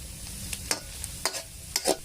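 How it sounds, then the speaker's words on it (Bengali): Onions sizzle in a pan, served with pilau rice, a soft steady frying hiss punctuated by several sharp stirring scrapes at roughly regular intervals. "পেঁয়াজটা ভাজছি পোলাও ভাতের পরিবেশনের জন্য"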